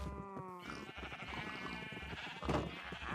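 Sheep bleating in the Minecraft video game while being herded into a pen, with several repeated bleats sounding close and fairly loud over a busy background of other farm animals.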